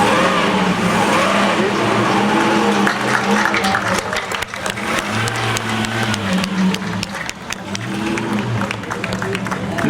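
A vintage Bugatti engine drives past at the Molsheim Bugatti festival, a loud, close motor note rising and falling as the car passes, with crowd noise and voices underneath.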